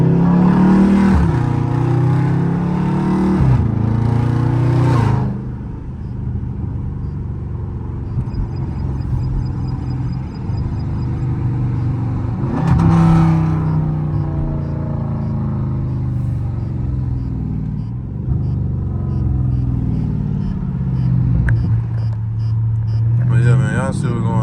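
A Dodge Charger Scat Pack drives along a street with a loud, close engine rumble, rising in several revving surges and falling back, while someone talks over it.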